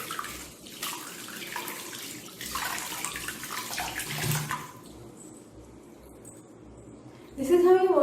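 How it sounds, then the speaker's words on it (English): Tap water runs steadily for hand washing at a school health and wellness exhibition, a continuous hiss under people talking, then fading quieter before a closer burst of sound at the end. "Turn on water and just clean it"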